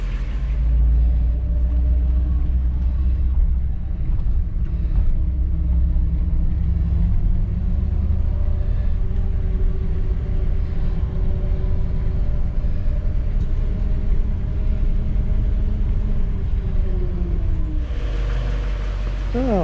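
A 1959 Chevrolet Bel Air with a 348 V8, cold-started for its first run of the season, idles with a steady low rumble, loud and close, holding an even note with slight changes in pitch throughout.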